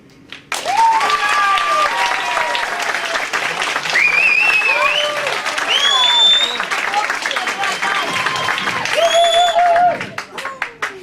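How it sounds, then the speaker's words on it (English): An audience at a 2011 presentation night bursts into rapturous applause for the cameras, dense clapping with whoops and high whistles layered over it, loud and sustained for about ten seconds before tapering off. "So some rapturous applause for the cameras,"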